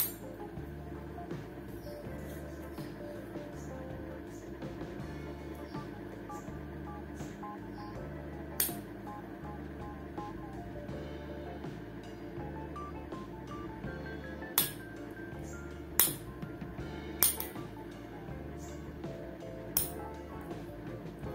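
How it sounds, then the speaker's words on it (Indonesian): Nail clippers snap through fingernails, heard as several sharp, isolated clicks spaced a few seconds apart over a steady tonal background hum, close and distinct, with no talking. "suara guntingan kukunya pun keras banget, kuat sekali"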